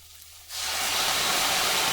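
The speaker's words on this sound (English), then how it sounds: "we're going to take a little bit of soy sauce and put it in, and then it's going to steam" Soy sauce hitting a hot stir-fry pan and bursting into steam: quiet at first, then a sudden loud, sustained sizzling hiss that holds steady.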